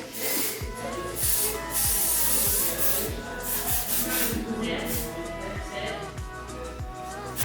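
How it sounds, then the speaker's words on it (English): Repeated short bursts of Orbe Thick Dry Spray hair texture spray hiss at close range, with steady rubbing and soft handling sounds underneath. "So then I'll just spray like a little texture spray."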